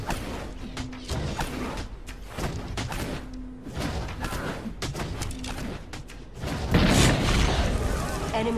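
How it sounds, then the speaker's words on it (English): Explosive booms, crashes and whooshes of a tower being destroyed in the video game Guardians of Middle Earth, rumbling in bursts with a voice speaking over parts of it. "Enemy tower destroyed."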